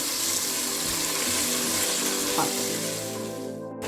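Tomatoes sautéing in a pan for mutton biryani, a loud, steady frying hiss close by that stays level throughout and stops abruptly at the very end.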